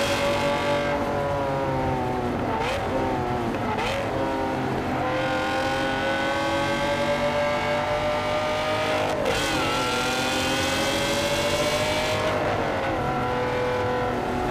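A Lamborghini Aventador driven hard around the Dubai Autodrome, its engine roaring loud and continuous with rising and falling revs through gear changes, close and unbroken for the whole stretch with no talk.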